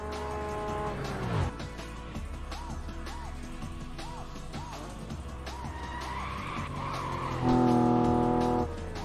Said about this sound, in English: Tyre sounds pretty good there, weren't they?